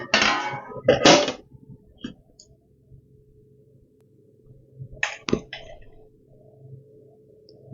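A cake pan and plate clatter as a wheat cake is turned out, with two sharp metallic knocks at the start, a few light clicks, then another clatter, close up in a quiet kitchen.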